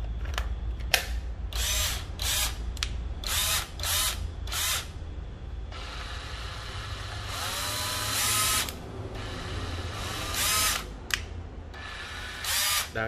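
A Makita 6470 cordless drill runs in a string of short trigger bursts, its motor whining up and down at varying speeds close by, with a couple of longer runs and some handling clicks between.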